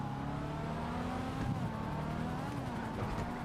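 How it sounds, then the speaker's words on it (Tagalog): A race car in a GTA Online race roars with a steady engine drone, tyres skidding and a crash impact mid-way, loud and continuous in video game audio. "Ayun, na-aksidente."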